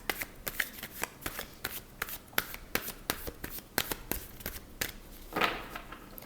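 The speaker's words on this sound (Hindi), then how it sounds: "वैसे तो मैंने कार्ड्स ऑलरेडी शफल कर लिए थे आपके, पर एक बार और अच्छे से कर लेते हैं" Tarot cards being shuffled by hand at close range: a quiet run of quick, crisp riffling flutters and soft slaps in an uneven rhythm, with no talking.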